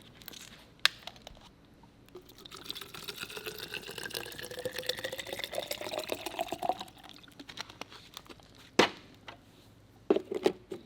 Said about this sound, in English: and simply add water